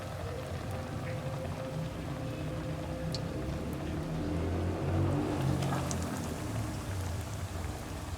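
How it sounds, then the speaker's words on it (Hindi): Breaded chicken cheese cutlets frying in medium-hot oil, a steady hissing crackle that fills the space, close and constant, with faint clinks. "ये हमारे कटलेट तैयार है, अब फ्राई करने हैं"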